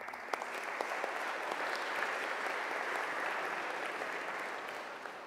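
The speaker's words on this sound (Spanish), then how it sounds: "Un aplauso, por favor." A lecture-hall audience at a round-table discussion on the Guelaguetza and Indigenous peoples claps continuously, even and fairly soft, with no talk over it.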